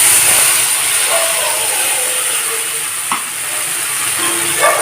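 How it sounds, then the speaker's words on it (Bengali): Poppy seed paste dropped into hot oil left over from frying small parshe fish sizzles loudly and steadily, with a few light clicks of stirring. "মাছ ভাজার তেলেই এখন পোস্তর পেস্টটাকে দিয়ে দেব।"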